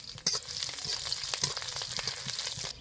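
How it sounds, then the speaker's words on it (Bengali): Four broken dried red chillies and crushed garlic fry in mustard oil with a bright, crackling sizzle, close and loud, punctuated by a few sharper spits and stirring sounds, with no voices. "শুকনো লঙ্কা রসুন খুব সুন্দর করে ভেজে নিয়েছি"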